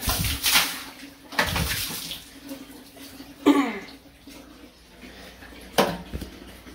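Water is poured by hand over laundry in a basin, several separate splashing gushes spaced a second or two apart, close by in a quiet room.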